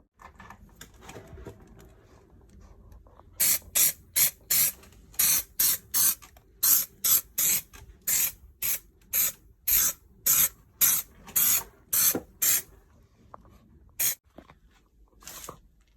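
Short hissing bursts of spray adhesive from a can repeat in a quick, irregular series, close by, after a quiet start, applied to a Lamborghini Countach seat for leather upholstery.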